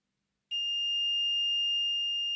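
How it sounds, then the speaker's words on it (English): A multimeter on its continuity setting gives one steady, high electronic beep when its probes touch across an armature from a Hornby Dublo Deltic model locomotive motor. The tone starts abruptly after a short silence and holds loud and unbroken to the end. "Use the continuity setting on the multimeter."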